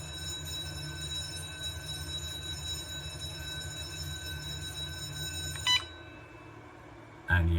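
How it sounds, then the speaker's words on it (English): A Gardtec EuroSec-8 alarm's external bell rings outdoors as a continuous loud metallic clatter, then cuts off abruptly, leaving a quieter stretch before another loud burst at the end. "but you can hear the bell very clearly now outside."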